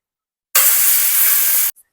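Chicken pieces dropped from a ladle into hot oil for chicken dum biryani, setting off a sudden loud sizzling hiss that holds steady for about a second and then cuts off.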